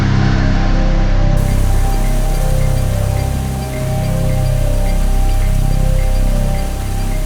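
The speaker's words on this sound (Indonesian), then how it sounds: "hujan pun mengguyur dengan derasnya" Heavy rain pours steadily at night near a forest gravesite, a loud, dense hiss with a low rumble underneath and no voices.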